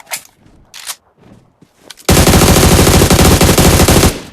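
Automatic gunfire in PUBG Mobile aimed at a bird near trees, preceded by quiet game ambience, then a loud sustained burst of rapid shots filling the last two seconds.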